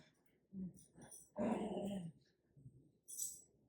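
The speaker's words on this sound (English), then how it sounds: "My dog is over there rolling on the carpet." A dog rolling on a carpet gives short, faint growls and whimpers in uneven bursts, with a louder growling stretch in the middle and a thin squeak near the end.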